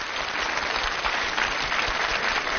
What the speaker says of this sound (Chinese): 那我们用掌声告诉他我们很爱他。